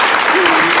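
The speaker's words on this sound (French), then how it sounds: "je pense qu'il aimerait quelques applaudissements" A studio audience on a French radio show applauds briefly, a dense, loud wash of clapping, with a voice faintly cutting in partway through.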